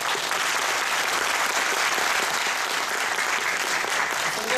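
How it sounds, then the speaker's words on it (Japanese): Audience at a Japanese election candidates' debate forum for Osaka's 9th district applauds, a dense, steady wash of clapping from many hands at even loudness throughout, with no voices over it. "それではここで皆様拍手をお願いいたします。"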